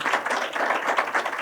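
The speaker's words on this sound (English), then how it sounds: "A round of applause for these wonderful" A brief burst of applause at a film Q&A in Albuquerque, clapping hands pattering densely and evenly at moderate volume.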